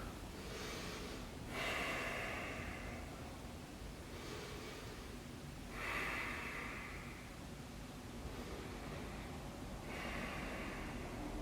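Steady breathing during a yoga stretch with arms overhead, soft airy inhales and exhales repeating every few seconds, close and quiet over a hissy background.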